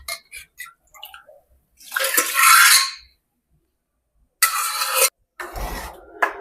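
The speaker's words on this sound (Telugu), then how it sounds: "అందుకనే కొద్దిగా వాటర్ పోసాను" Water is poured into a tamarind stew of okra pieces and toor dal to thin it, in three separate splashing bursts of a few seconds each, broken by silence and a few soft clicks.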